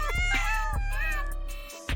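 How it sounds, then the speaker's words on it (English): Kittens meowing close by in a few short, high, plaintive cries, one after another and overlapping slightly, with no talking. "Now, they're falling out into our reality at a rate of 3 kittens per second."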